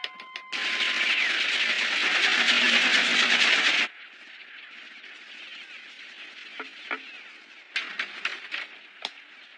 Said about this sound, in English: there's a train approaching them from the opposite direction